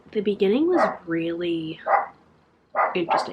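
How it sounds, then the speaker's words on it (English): A neighbor's dog barks intermittently in the background while someone talks over it, with short yelps and barks mixed among the speech. "I'm sorry if you can hear the dog in the background."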